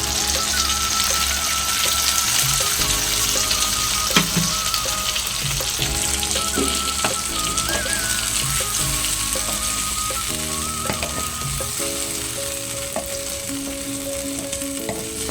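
Potatoes fry in a pan in a Bengali home kitchen, a steady close sizzle with scattered clinks and scrapes of a spatula stirring throughout.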